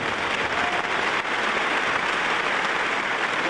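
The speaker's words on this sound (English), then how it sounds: "let's give Rick a nice round of applause" A theater audience gives photographer Rick Avila a round of applause. The clapping is thick, even and continuous throughout, like a steady wash of sound, with no voices on top.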